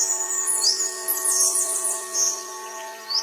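Birds chirp and tweet steadily through a quiet morning, high bright calls overlapping above a faint steady hum, with no voices.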